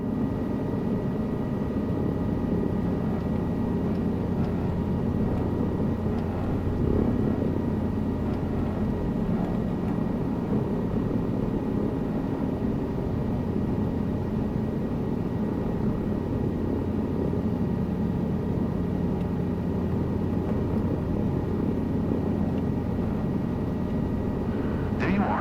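Helicopter rotor and turbine drone from Microsoft Flight Simulator during a hover taxi, a steady continuous whir held at even loudness throughout with no speech over it.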